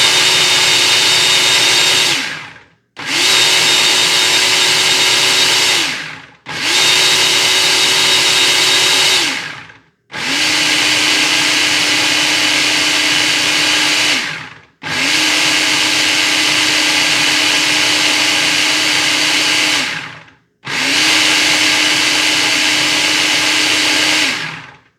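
A kitchen blender pulses homemade red salsa in six loud bursts of a few seconds each, whirring steadily and stopping with short silences between, with no talking.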